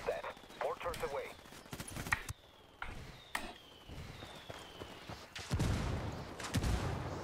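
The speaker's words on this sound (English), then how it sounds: "Mortars away." A mortar strike lands in Ghost Recon Wildlands, with a few sharp, heavy blasts spaced a second or so apart and a rumbling surge near the end. Voices talk over it throughout.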